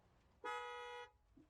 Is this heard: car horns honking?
yes